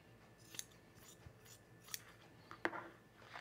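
Scissors snip through the hems of fabric napkins in a few quiet, separate cuts spread over a few seconds, close by and with no talking.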